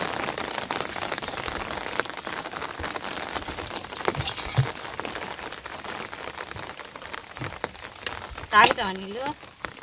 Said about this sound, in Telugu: వర్షం వస్తుంది మేఘన, మరి తొందరగా మళ్ళీ ఎక్కువ అవుతుంది మరి వర్షం.